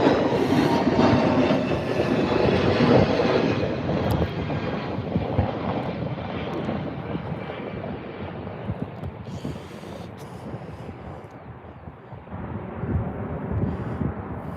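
Wizz Air jet departing Birmingham airport, a loud broadband engine roar that stays heavy and steady for the whole stretch, easing slightly toward the middle before swelling again near the end.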